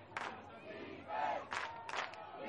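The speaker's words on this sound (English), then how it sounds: "Let's get that defense cheer" Spectators at an ultimate frisbee game chanting a defense cheer, repeated shouted bursts from a crowd rising over a steady murmur, fairly distant.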